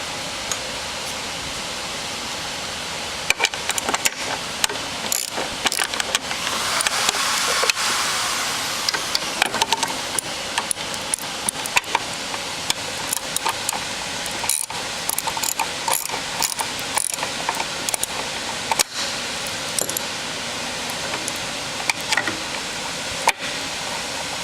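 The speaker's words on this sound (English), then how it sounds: "loosen the pump plate. There are two Allen screws at the back there." Allen screws are loosened on a pump plate at the back of a tank unit, heard as a series of small metallic ratcheting clicks and taps, close and irregular, over a constant hissing background noise, with no speech.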